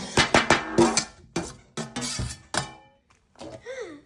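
Seeds, pumpkin seeds, mixed nuts, blueberries and pomegranate are stirred together in a bowl, giving a series of close, clattering knocks and scrapes, followed by a brief voice.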